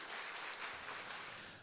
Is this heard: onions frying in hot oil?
no